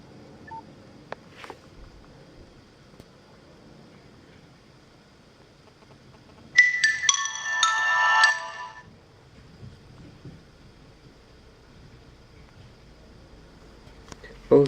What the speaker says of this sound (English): this is my Nokia startup sequence